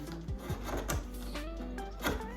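A chisel chips away at wood while hand-cutting dovetail joints, giving a few short scraping and knocking strikes close by, with brief gaps between them and no talking.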